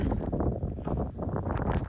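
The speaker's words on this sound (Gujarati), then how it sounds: "પવન ભાઈ બહુ જબ્બર છે" Heavy, steady wind buffeting the microphone, a continuous low rumble with gusty surges throughout.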